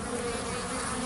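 Bees buzzing steadily around a beehive on a mild March day, a dense continuous hum close to the microphone with no voices.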